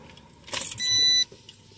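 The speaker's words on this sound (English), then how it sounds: "I turned my car back on." A car engine cranks after a faint click, with a brief, close starter whir of about half a second that then cuts out. No one speaks.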